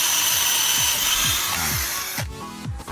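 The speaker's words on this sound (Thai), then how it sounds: "ไม้หน้า3เนื้อแข็งนะครับผมเจ้าตัวนี้จัดการได้สบายๆนะครับผมลองดูนะครับ" A 24V cordless drill bores into thick hardwood, giving a grinding, rasping whir with repeated rising pulses as the bit bites, close and loud, then briefly cutting out near the end.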